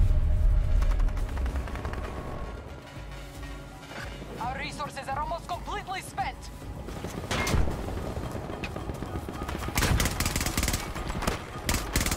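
Turret gunfire in Battlefield 2042, with scattered heavy shots and bursts amid battle noise, a louder cluster near the end, and someone speaking over the action.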